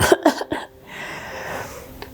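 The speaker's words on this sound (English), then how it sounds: "Oh, just got a bit of a cough." A few quick, sharp coughs burst out close by at the start, then fade into quiet room noise.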